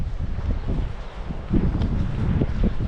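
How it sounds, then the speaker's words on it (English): Outdoors in rain and strong wind, gusts buffet the microphone with a loud, uneven low rumble and rustling, continuous over a few seconds with no voices. "it's raining and really windy"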